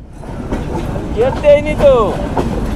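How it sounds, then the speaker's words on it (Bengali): A train rumbles past a level crossing in Jessore, Bangladesh, with a steady rolling clatter and a few high metallic squeals from the wheels, close by. "ট্রেন চলে গেল।"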